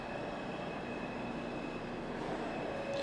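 A New York City subway train rumbles steadily through the underground with a continuous roar of wheels and car noise, a faint squeal rising near the end, and no voices.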